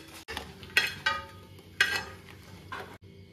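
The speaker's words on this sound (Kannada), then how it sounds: "ಅದನ್ನು ಸ್ವಲ್ಪ ಗರಿ ಗರಿ ಆಗುವ ತನಕ ಹುರ್ಕೊಳ್ಬೇಕು" Chillies fry in a pan for a Kannada jackfruit palya, a soft sizzle broken by a few sharp scrapes and stirs of a spoon against the pan, close and distinct.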